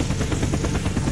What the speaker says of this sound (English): Since the plane just landed